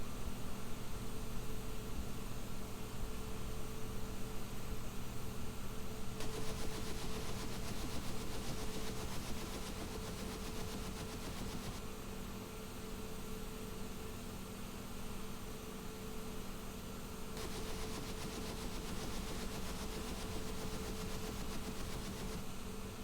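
An Mi-24 Hind helicopter's turbine engines run in the DCS flight simulator, a continuous whining roar with a broad hiss that swells and eases in long phases, loud and steady, with no talk.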